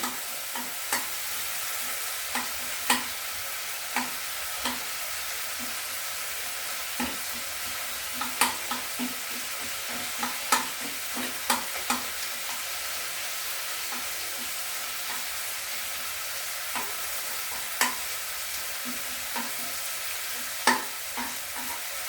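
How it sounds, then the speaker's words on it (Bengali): Onion and garlic frying in the middle of a pan, with shrimp pushed to the side, for pumpkin leaf greens: a continuous sizzle with frequent light utensil taps and scrapes over about twenty seconds, with no voices. "মাঝখানে একটু পেঁয়াজ রসুনটাকে ভেজে নেব"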